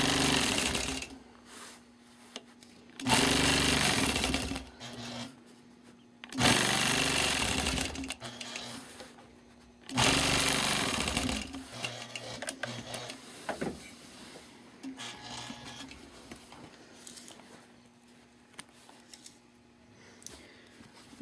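Sewing machine free-motion quilting a motif and feather ring, running in loud bursts of steady rapid stitching separated by quieter pauses and lighter intermittent stitching.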